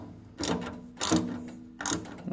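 Screws are tightened while replacing the burner of a De Dietrich MCR 24/28 BIC boiler, with three short, close mechanical ratcheting bursts separated by brief pauses.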